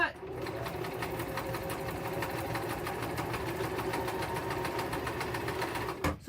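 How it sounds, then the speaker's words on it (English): Close sewing machine stitching steadily with a fast, even mechanical rhythm that runs nearly the whole time, then stops abruptly at the end. "sorry, I can't sew and talk at the same time."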